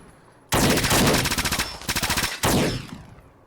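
Ingram MAC-10 submachine gun firing in Fallout 4, loud close bursts of rapid automatic fire in two or three long strings with a short gap, then ringing off into a fading tail.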